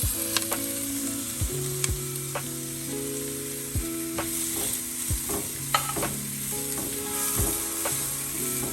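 Tomatoes fry in a little oil in a pan for chili idli while a spoon scrapes and stirs, giving a close steady sizzle punctuated by repeated sharp metallic clacks.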